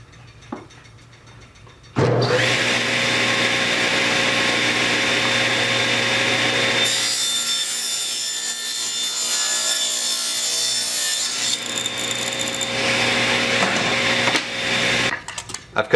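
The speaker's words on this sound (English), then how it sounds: "I'm going to move my fence over 1/4 inch at a time, and what that'll do is give me 1/8 inch wide strips out of this piece of lumber" A table saw rips a piece of lumber into thin 1/8 inch strips, starting abruptly with a loud, continuous whining cut that holds steady for over ten seconds before winding down, close by with no talk.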